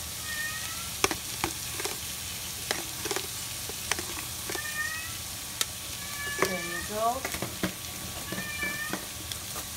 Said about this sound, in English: My cat is really noisy.